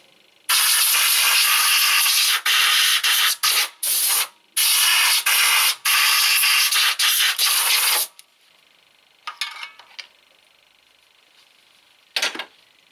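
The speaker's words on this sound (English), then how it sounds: "Now we need our best friend, a little bit compressed air." Compressed air blown around the spark plugs of an engine during a replacement job, loud bursts of hissing spray, several long and short blasts in a row, then a few faint short puffs after a pause.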